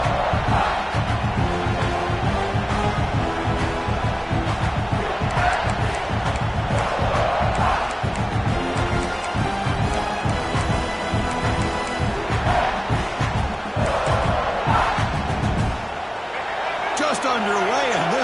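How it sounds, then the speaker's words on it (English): A home stadium crowd roars in the College Football 26 video game, a loud steady wall of cheering that runs throughout beneath a play-by-play commentator's voice, thinning out near the end. "this home crowd is fired up and ready to make a difference today"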